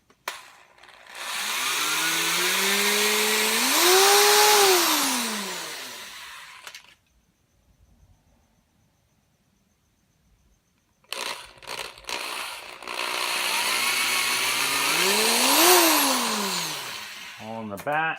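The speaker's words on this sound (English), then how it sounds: "I'm gonna drill the holes in the bats and the trees" A power drill bores holes in Halloween decoration bats and trees: two long whining bursts that rise and fall in pitch, separated by a few seconds of near silence, loud and close with no talking.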